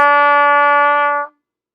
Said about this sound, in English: We're going to push down fingers 1 and 2 at the same time to play E.